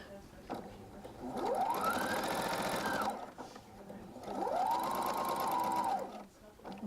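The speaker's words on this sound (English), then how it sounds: "So now we'll put the foot down. There you go. Now you sew." An electric sewing machine runs in two steady bursts, its motor whining up, holding a buzzing stitch rhythm and winding down, close by, with a person talking softly in between.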